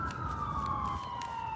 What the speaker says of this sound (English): Got an ambulance and a cop car.